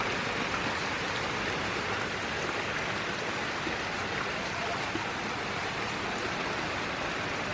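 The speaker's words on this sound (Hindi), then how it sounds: "यहाँ बारिश होने लगी है।" Rain falls steadily outdoors, a dense even hiss of drops on surfaces close by with no break or change over several seconds, no voices.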